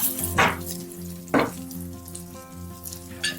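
An egg omelette fries in a pan after being flipped, giving a steady sizzle with a few sharp scraping clatters of a spatula against the pan.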